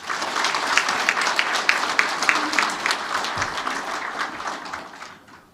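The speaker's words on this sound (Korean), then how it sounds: "큰 박수 부탁드립니다" Sustained applause from a large audience at a civic town-hall meeting, dense steady clapping that swells and then gradually fades out toward the end, with no voices over it.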